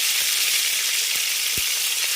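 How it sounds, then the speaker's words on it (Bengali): Cut, washed potatoes hit hot oil in a pan, producing a loud, constant bright sizzle with a few soft low knocks beneath. "তেল গরম হয়ে গেছে এবার তেলের মধ্যে দিয়ে দেব কেটে ধুয়ে রাখা আলু"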